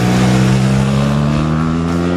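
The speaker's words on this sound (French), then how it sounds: "Les montées en régime sont hyper réactives, les accélérations vives, le tout accompagné d'un bruit franchement viril" A BMW R1200GS boxer motorcycle engine revs hard and pulls with a steady, loud low drone, heard close and continuous with no talk over it.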